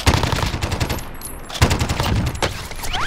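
Rapid automatic gunfire bursts in the shooter Warzone, loud and close, repeating in quick volleys with sharp single shots mixed in across the whole stretch.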